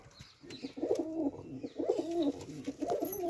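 Several pigeons coo steadily in breeding cages, their soft throaty rolls overlapping close by with a few brief chirps, no talking.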